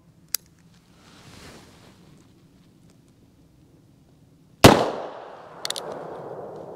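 A single sharp, loud crack of a .22 Magnum rifle firing Hornady Critical Defense ammunition through a chronograph, with a ringing tail decaying over a couple of seconds, preceded by a faint click and quiet handling sounds.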